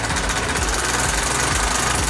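A motorcycle engine with a faulty timing chain, running with a loud, rapid metallic knocking and rattling that repeats steadily throughout without talk.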